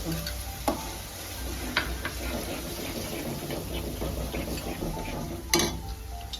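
Tomato gravy stirred into a hot pan while making Gujarati bateta bhungala, giving a steady close sizzle with a few sharp spoon-on-pan clicks scattered throughout.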